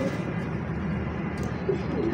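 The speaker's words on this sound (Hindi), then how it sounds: "यही कबूतरबाजी वाले कबूतर होते हैं मेरे भाई" Pigeons of a flying breed coo steadily in close, dense layers, with a continuous low murmur of calls and no pauses.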